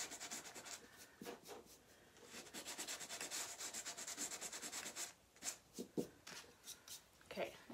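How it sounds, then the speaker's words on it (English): Fine sandpaper lightly sands paint on a chalk-transfer design, making close, steady rubbing strokes in a quick back-and-forth rhythm, with a few sharper scrapes near the end. "I'm just going to take some fine sandpaper and just sand it down"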